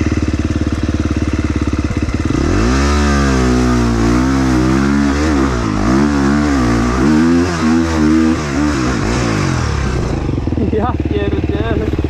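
A motocross dirt bike engine revs hard and loud up close, pitch sweeping up and down through repeated throttle bursts over several seconds before settling, with voices faintly underneath.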